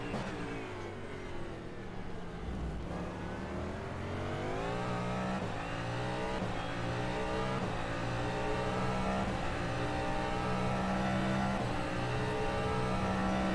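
DPi hypercar engine in rFactor 2 at Spa-Francorchamps, revving steadily and climbing through gears with a harsh, buzzing, sustained racing tone and no talk.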